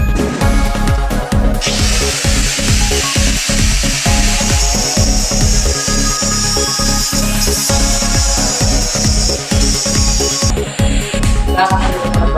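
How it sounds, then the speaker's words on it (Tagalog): An angle grinder works steadily on a galvanized steel cage, a loud, continuous whine with a high abrasive hiss running the whole time, close up and without pause. "Gamit ito ang grinder."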